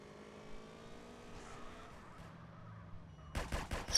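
A quick cluster of sharp gunshots from the GTA video game bursts out near the end, loud and close, following a low rumble of in-game car and engine noise.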